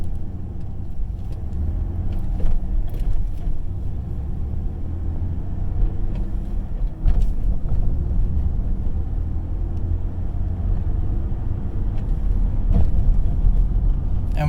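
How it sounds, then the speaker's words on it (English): A manual Ford Ranger's engine rumbles steadily and holds a low, constant drone while the clutch is let out to pull away, with no sharp rise in revs and a faint bump near the middle. "just give it about 1500 RPM of gas and release the clutch"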